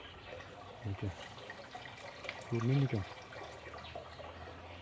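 Water runs from a hose into a 200-litre barrel, a steady broadband hiss of pouring that sits low beneath a person talking close by.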